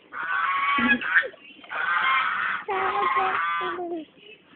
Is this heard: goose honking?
yes